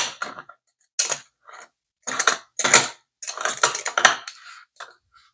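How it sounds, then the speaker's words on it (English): The threaded top of a stovetop coffee maker is screwed onto its water chamber, making a series of short, close metallic scraping and grinding bursts separated by brief silences. "It goes on top of this, so we screw it in."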